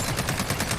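Short burst of rapid MK 17 rifle hip fire in Call of Duty Modern Warfare, several shots fired in quick succession, loud and close with no talking.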